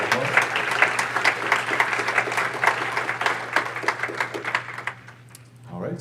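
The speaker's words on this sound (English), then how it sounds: "thank you so much for the great presentation, Annika, and yeah, another round of applause" An audience at an audio engineering conference applauds after a keynote on room acoustics, a dense patter of many hands clapping at moderate volume under a low steady hum, thinning and fading out near the end.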